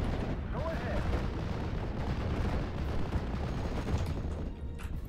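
Artillery guns fire in the WWII strategy game Steel Division, a dense rumbling barrage of booms that runs continuously behind the game's battle noise.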